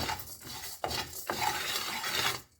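Cashews and rice being dry-roasted in a pan for homemade chicken curry powder, a raspy scraping and stirring texture with a few sharper scrapes, steady and close, ending abruptly.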